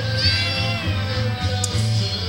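A one-month-old abandoned kitten meows at close range, giving short, high, plaintive cries in quick succession over about two seconds.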